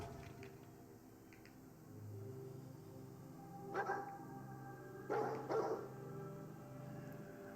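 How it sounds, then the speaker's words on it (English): A dog in Fallout 4 gives a few short barks in two brief bursts, fairly distant and quiet over a low ambient game hum. "What are you barking at?"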